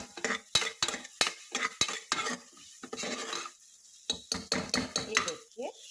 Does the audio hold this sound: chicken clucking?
no